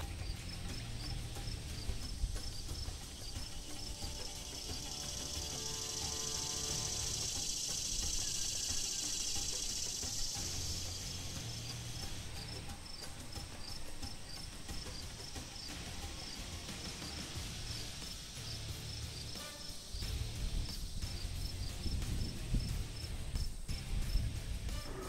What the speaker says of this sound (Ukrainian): лежимо, відчуваємо степ і слухаємо спів цвіркуна